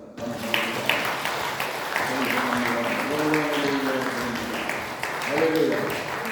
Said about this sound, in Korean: 우리 하나님께 감사와 찬송과 영광의 박수를 올려드리겠습니다.